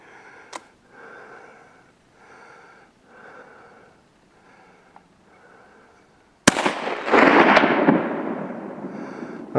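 A Mosin Nagant 91/30 rifle fires at icicles outdoors: one loud, sharp shot with a long rolling echo that trails off, preceded by quiet breathing and small movements.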